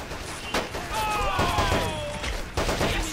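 Gunfire rattles through a 3 vs 3 UK versus Germany match in a video game, with a couple of sharp bursts standing out over continuous battle noise and faint game voices.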